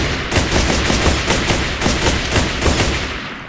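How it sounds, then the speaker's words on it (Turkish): A fast, loud stream of gunshots from a skeleton's gun in the Minecraft video game, a steady rattling volley of closely spaced cracks with no talking over it. "Silah sesi nasıl arkadaşlar?"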